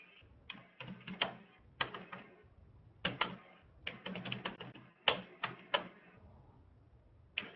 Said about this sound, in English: We're going to start typing a message.